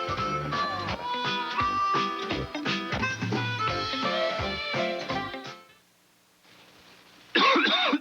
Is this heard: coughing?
yes